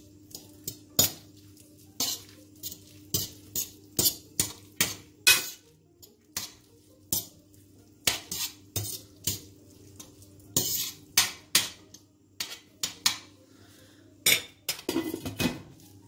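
Metal utensil stirring linguini in a pot on the stove, irregular clinks and scrapes against the pot sides in a steady uneven rhythm, close and fairly quiet, with no talking.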